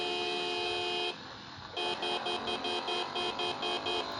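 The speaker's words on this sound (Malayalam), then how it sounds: "നമ്മൾ ഹോൺ അടിച്ച ഇങ്ങോട്ട് വന്ന വണ്ടി ആയാലും മാറും" A vehicle horn on the road blares in one long continuous tone, breaks off briefly, then sounds in a rapid run of short, evenly spaced honks.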